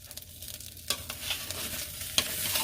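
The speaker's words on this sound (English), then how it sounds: "So now that all the rice is in there, just continue to mix it" Rice frying and being stirred in a pan for a Korean vegetable stir-fry, a soft continuous sizzle broken by a few scraping stirs, close and fairly quiet.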